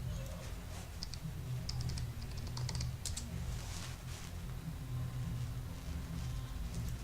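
Typing on a computer keyboard while entering a Twitter username, a steady run of close, quick key clicks alone with no talk.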